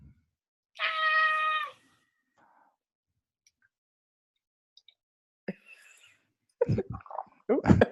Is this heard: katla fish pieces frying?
no